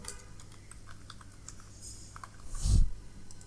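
Typing a prompt on a computer keyboard: scattered faint key clicks in an irregular rhythm, then a louder thump near the end, with no talk.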